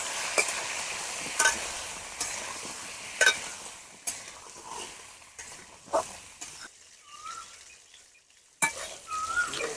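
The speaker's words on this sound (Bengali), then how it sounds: "সামান্য নুন দিয়ে পটলগুলো একটু ভালো করে ভেজে নিতে হবে" Pointed gourd sizzles steadily in hot oil while a utensil stirs and scrapes the pan in irregular knocks and clinks.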